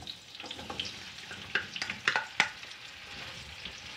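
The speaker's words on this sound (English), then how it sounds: "Now we need to fry these onions until they turn into dark brown in color." Four sliced onions frying in about seven or eight tablespoons of oil, a soft, fairly quiet sizzle with a few light clicks and scrapes as they are stirred.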